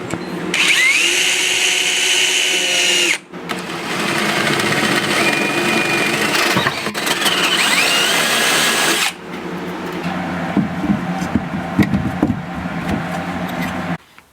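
A power drill bores a hole through interior window trim in a truck camper build, a loud, close whining drone running continuously in two long bursts with a short pause between, then a rougher grinding stretch.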